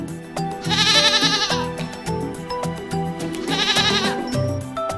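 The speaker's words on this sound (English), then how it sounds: "Goat." A goat bleats twice in long, wavering, nasal cries separated by a short gap, close and loud, with light rustling and clatter beneath and no speech.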